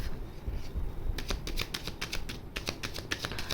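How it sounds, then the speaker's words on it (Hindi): Tarot cards fall and clatter in a quick run of light, crisp taps and flicks, close and faint, with no talking. "बोलते ही कार्ड्स गिर गए।"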